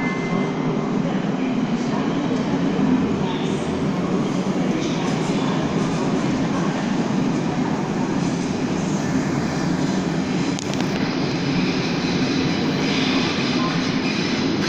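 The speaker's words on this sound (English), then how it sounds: "Caution, the train is arriving." An IC intercity train with a control car pulls into Köln station, a loud steady rumble of wheels and rolling stock filling the platform throughout with faint clatter and no pause.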